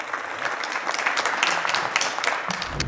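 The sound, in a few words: audience applause welcoming next founder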